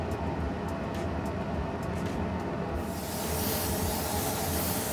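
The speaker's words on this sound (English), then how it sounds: "let's see how it feels on my airbrush" Airbrush with a 0.5 mm tip on an Iwata HP-CS spraying metallic paint, a steady close hiss that grows broader and louder partway through and continues without pause, no speech.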